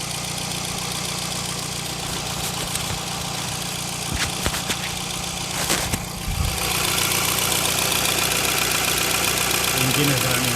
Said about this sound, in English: Engine is running continuously, and it's not turning off at all.